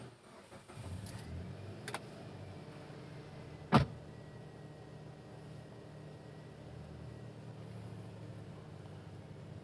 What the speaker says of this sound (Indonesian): Suara mesinnya cukup masuk ya